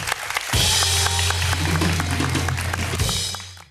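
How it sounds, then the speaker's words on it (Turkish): A crowd bursts into applause for three captains on a TV talk show after a brief pause, steady clapping filling the room for a few seconds with some music underneath. "Alkışlayalım üç kaptanımızı."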